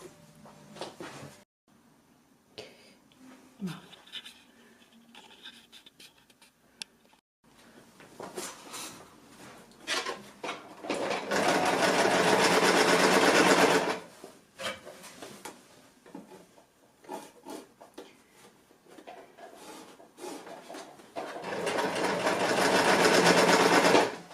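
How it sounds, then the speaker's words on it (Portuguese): Sewing machine stitching a hem on a fabric Christmas table runner, running in two long, loud bursts of steady whirring, separated by quieter handling noises and fabric shuffling. "vamos agora aqui para a máquina de costura"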